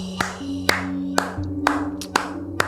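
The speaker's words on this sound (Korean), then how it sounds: "박수가 절로 나와요" Several separate, sharp hand claps, about seven in under three seconds, sound at an irregular pace over a steady background tone, like a small studio audience on a Korean horror-story radio talk show.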